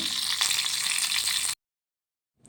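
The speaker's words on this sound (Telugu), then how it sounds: "చూడండి, వంకాయలని ఆయిల్లో ఫ్రై చేస్తున్నాను సపరేట్గా" Brinjals fry in hot oil in a pan, a dense, steady sizzle for about a second and a half before cutting to silence, then a faint return at the very end.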